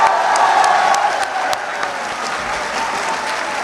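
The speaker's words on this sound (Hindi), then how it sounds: "आपके लिए बहुत सी तालियां आप लोगों को" Audience at a poetry recital clapping, a dense, loud burst of applause that fades slightly after the first second and continues steadily.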